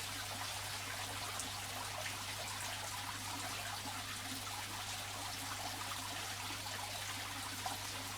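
Live fish food dripped slowly into an aquarium holding cardinal tetra fry makes a soft, steady trickle of liquid over a constant low hum, with no talk.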